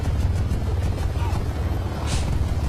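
A helicopter in the video game War Front Line gives a steady, loud low rumble of rotor and engine noise that runs through the whole moment, with a voice briefly over it.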